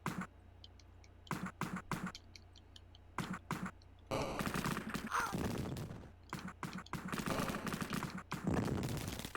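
A turret in Cannon Fodder on the Mega Drive fires repeated short bursts of gunfire, sparse clusters at first, then a denser, nearly continuous stretch of rapid shots amid other game noise.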